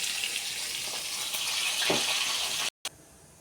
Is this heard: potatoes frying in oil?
yes